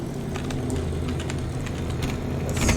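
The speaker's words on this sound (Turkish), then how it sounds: "Ama arkadaşlar araba çok ses yapıyor." A car engine in a Roblox hill-driving game drones with a loud, steady low hum. Faint clicks and rattles sit on top, and the engine swells slightly at the end.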